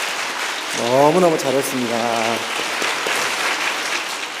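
A church congregation applauds steadily for a children's Christmas service with a dense, rain-like patter of clapping while someone speaks briefly over it.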